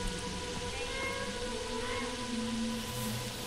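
A cat meows in the horror game FNAF Into The Pit, a drawn-out, wavering cry over a low game ambience, rising and falling throughout with no voices on top.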